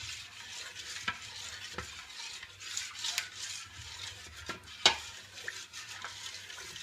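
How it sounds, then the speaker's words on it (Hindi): A spoon or ladle slowly stirs wheat flour batter for homemade wheat papad, a soft continuous scraping swirl with a few light knocks against the pot, fairly quiet and without talking. "इसको धीरे धीरे चम्मच या करछली की सहायता से निकालें और अच्छी तरह से घोल लें।"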